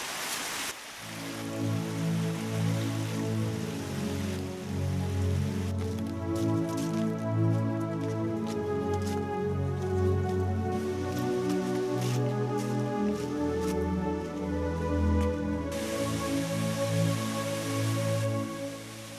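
Steady rushing of a stream flowing beside a footpath in the Peak District, a continuous watery wash that stays fairly constant throughout, with no talking.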